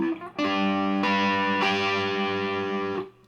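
A distorted electric guitar chord in a punk rock style rings out, restruck twice in quick succession and sustained loudly with a gritty, buzzing tone before cutting off.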